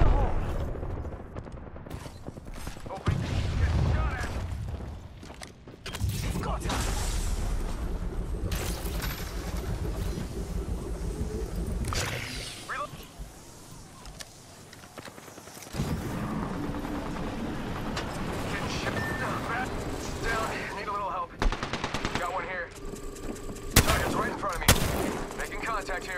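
Bursts of gunfire and explosions from the Apex Legends video game on PS4 Pro, loud and heavy, with a rumbling barrage and scattered shots while players talk.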